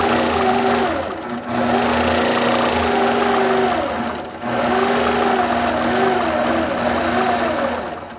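Sewing machine running steadily as it stitches a quilt with the Quilt Glide stitch regulator engaged, a close, continuous whirring hum with a faint cyclic pulse and brief dips in speed.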